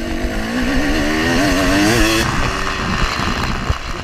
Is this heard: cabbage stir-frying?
no